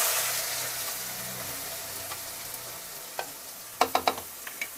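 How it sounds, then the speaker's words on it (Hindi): Chopped onion dropped into hot oil with browned cumin seeds, a steady broad sizzle and hiss of frying that slowly eases, followed by a few sharp stirring clinks of a spoon against the pan near the end. "और जो मैंने जीरा डाला था ब्राउन हो गया है, तो अब मैं इसमें प्याज डाल दूंगी।"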